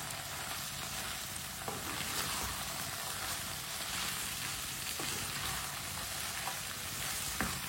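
Chopped capsicum and cabbage are stirred in a hot pan, giving a steady close sizzle and frying hiss throughout with a few faint scraping clicks from the stirring.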